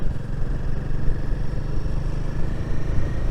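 A Royal Enfield Himalayan 450 motorcycle rumbles through a roundabout, its engine a close, steady, low throb with rough, pulsing texture and slight swells in loudness as it rides.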